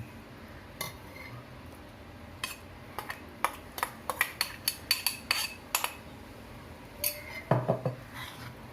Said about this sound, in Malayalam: ചെറിയ സ്പൂണ് കൊണ്ട് മിക്സ് ചെയ്യുന്നതായിരിക്കും നല്ലത്